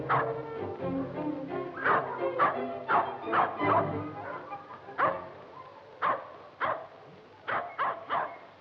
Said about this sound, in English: That, my dear, is a poodle.